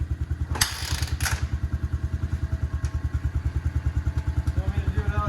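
A Honda Fat Cat TR200 motorcycle engine running with the choke pulled, a loud, close, rapid putting thump in a steady beat, with a couple of sharp knocks early on and voices faintly under it.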